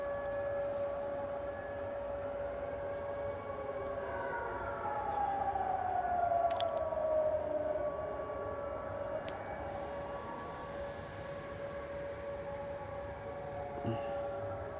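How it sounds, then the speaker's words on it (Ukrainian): An air raid civil defense siren wailing in the distance on New Year's Day 2024 in Ukraine, one long steady tone that falls in pitch midway and then holds, over low background rumble. "Повітряна тривога, повітряна тривога."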